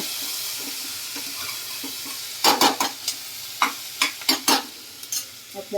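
Vegetables stir-fry in hot oil for tempered khichdi, a steady sizzle and hiss broken by sharp clatters and scrapes from a stirring spoon against the pan, close and with no talking.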